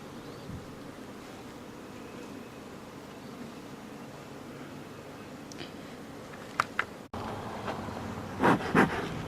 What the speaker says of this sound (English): if you can see the bees congregating along the top